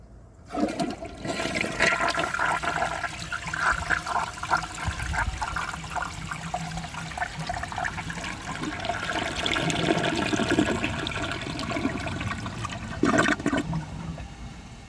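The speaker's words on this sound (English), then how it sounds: "I could flush this thing all night. I just love how it sounds." A 1983 Eljer Hygeian toilet flushing: a loud, close rushing gush of water that churns steadily for several seconds before tapering into refill trickle, with no talking.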